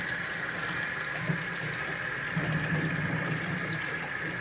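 Water gushes steadily down a sink drain after the plug is pulled during revolver cleaning, a constant low rushing wash with slight swells, fairly quiet and unbroken throughout.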